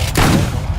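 Shotgun blast in the Roblox game Rivals, a single loud, close, booming shot with a short heavy tail.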